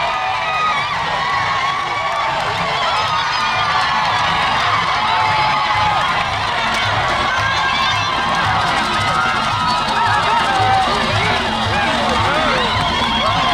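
Jubilant crowds cheer for the Kabaka of Buganda during his 30th coronation anniversary procession, a steady dense roar of shouting and whooping voices with some clapping, continuous and fairly loud throughout.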